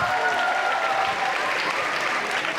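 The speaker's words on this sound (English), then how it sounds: "Give yourself a round of applause" A student cultural-night audience at Imperial College bursts into steady, dense applause, a loud, continuous wash of clapping filling the hall without a break.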